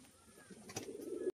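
Jhamar pigeons, a green male and a white-black female, give a short soft coo close by, ending abruptly.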